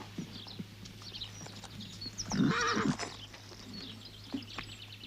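Horses give a loud neigh mid-clip, surrounded by scattered hoof clip-clops and faint rustling over a low steady hum.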